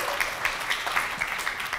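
Audience at a general meeting applauds Barbara Ware, a steady patter of clapping from a room of people with soft, regular peaks, heard alone at moderate volume.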